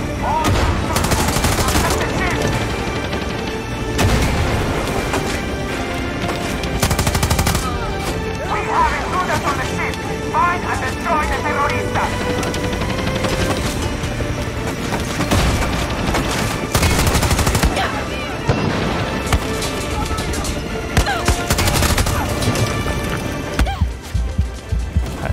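A light machine gun fires in Far Cry 6 gameplay: dense, loud bursts of automatic gunfire with booming impacts, running almost continuously under game sounds.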